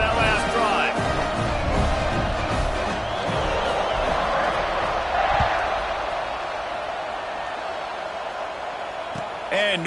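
Stadium crowd noise in an American football video game, a constant broad roar of fans throughout, with a commentator talking over it.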